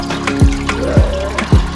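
Water splashes and gurgles into a newly set-up fish tank, with three distinct low plunging bursts spaced about half a second apart over a steady trickling flow, close and moderately loud.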